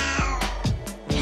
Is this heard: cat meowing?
yes